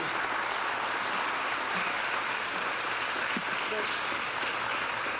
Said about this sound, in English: Kevin, let's give him a round of applause